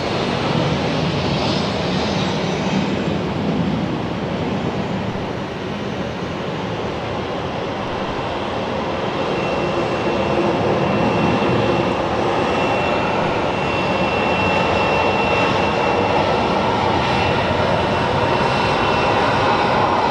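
Passenger jet landing at Phoenix Sky Harbor International Airport, a loud sustained roar of jet engines that swells and holds steady for the whole stretch, broad and rumbling, with no talk over it.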